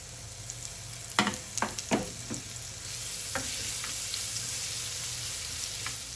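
Crushed shallots and green chilies fry in hot ghee for a prawn biryani, making a soft continuous sizzle broken by a few sharp spoon or pan clicks early on.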